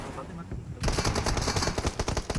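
Rapid bursts of Free Fire video game gunfire break out after a quieter start, crackling repeatedly with voices talking over the shots.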